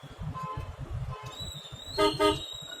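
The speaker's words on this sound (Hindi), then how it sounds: "हॉर्न इसलिए मारा जा रहा है कि भैया तुम एकदम से कट कुट ना मार दो" A vehicle horn gives two short toots near the end, following a steady high electronic tone, with engine and road rumble underneath while driving in Punjab.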